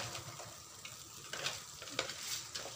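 Crab cooking in a red sauce in a frying pan, with a steady sizzle and bursts of stirring and scraping from a utensil against the pan, close and fairly loud, with no talking.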